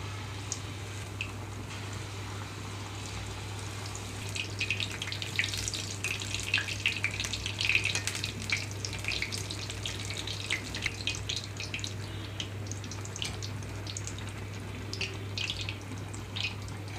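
Wheat flour and jaggery burelu, sweet dumplings, frying in hot oil: a steady bubbling sizzle with crackling spits that swell midway and persist throughout, over a low constant hum, with no talk.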